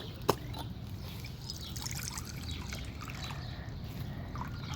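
Water from a garden fountain trickles quietly and steadily in the background, with a brief knock near the start and no talking.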